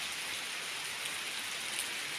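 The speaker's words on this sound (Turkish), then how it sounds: "Oluk oluk bakın nasıl su akıyor yukarıdan." Steady, dense hiss of heavy rain pouring down from above in a village garden, constant and close without pauses or voices.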